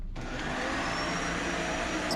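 A full-size household vacuum cleaner runs on battery power with a steady, loud whine and broad airy roar, continuous throughout with no talk.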